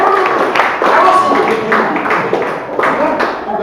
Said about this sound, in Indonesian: Tepuk tangan dulu untuk GM.